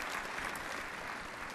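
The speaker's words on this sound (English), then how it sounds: "Give yourselves a round of applause for all of your hard work and effort for these girls this evening" An awards ceremony crowd applauds, a dense, even wash of clapping from many hands heard briefly at moderate volume.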